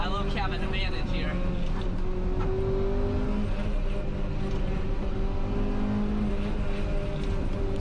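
A Honda Civic engine held at high RPM on a mountain touge road, a steady loud strained drone with shifting harmonic tones, close inside the cabin, with someone talking over it.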